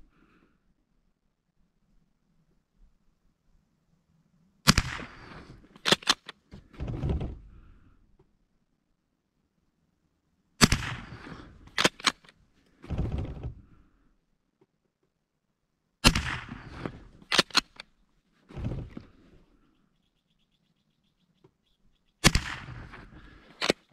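A Winchester 62a rifle fires in clusters of sharp, loud cracks, with metallic clacks of the action cycling between shots, separated by quiet pauses, over about ten rounds.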